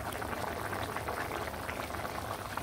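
A pot of vegetable curry made with sweet gourd simmers with a soft, steady bubbling and gentle burble, fairly quiet and unbroken.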